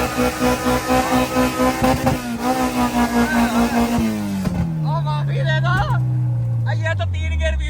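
A car with a K24 engine, out on a test run, revs hard through a pulsing upshift and then winds down steadily in pitch, with voices talking over the engine.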